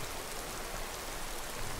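Rain pouring over volcanic, cracked ground in Skyrim, a constant dense patter and hiss that holds a level wash from start to finish, with no one speaking.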